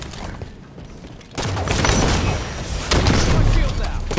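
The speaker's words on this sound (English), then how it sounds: "Throwing a grenade." A grenade explodes in Eden Slayer with an abrupt loud blast that swells into a dense, sustained rumble and crackle, with a second surge near the end, mixed with game voices.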